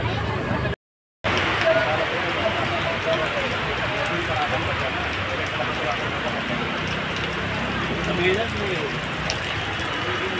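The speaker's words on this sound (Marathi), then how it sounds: "पाऊस यायला लागला ना" Rain begins falling outdoors at a family home, a steady hiss of drops on surfaces that runs continuously from near to far, with voices faintly mixed underneath.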